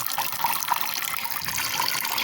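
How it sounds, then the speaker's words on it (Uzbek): Water pours steadily from a shower fed by a newly fitted electric water heater, a continuous close hiss of running water with no voices. "Hozir suv tushyapti."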